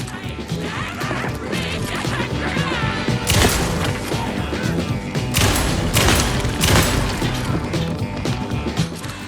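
Gunfire in the Alan Wake 2 video game, a run of loud crashing shots and impacts in bursts over a dense game soundtrack, with heavier blasts near the middle of the clip.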